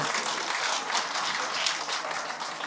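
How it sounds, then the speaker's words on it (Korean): Dense audience clapping at a dance club's business opening ceremony, a steady bright wash of many hands throughout, moderately loud and unbroken. "응원의 큰 박수 부탁드리겠습니다"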